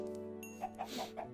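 Minecraft chickens cluck in a short series of soft, close clucks over a faint steady game background hum.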